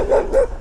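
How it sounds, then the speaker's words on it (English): A small dog gives two quick, mid-pitched barks nearby, heard outdoors on a bumpy pavement with a faint background rumble. "Is that a little doggy I hear?"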